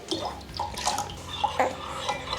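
Cold water is poured from a cup into a lemonade mix, a short splashing, gurgling pour at close range with no talking over it.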